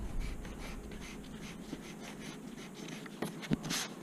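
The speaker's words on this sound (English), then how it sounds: "we're just gonna erase some of the extra" A pencil eraser rubs back and forth on paper while extra lines are cleared from a hand-drawn bridge truss design, a soft close scratchy scrubbing followed by a few light taps and brushes.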